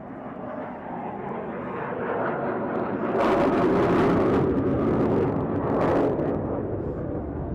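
RAAF Roulettes aerobatic aircraft fly in after FA-50 jets at an air show over Mindil Beach, a distant engine drone swelling louder, with two brief sharp bursts near the peak before easing slightly.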